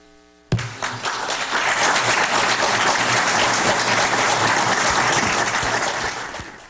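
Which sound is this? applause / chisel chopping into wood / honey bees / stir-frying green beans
applause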